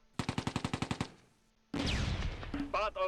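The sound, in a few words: gunfire in the video game Close Combat II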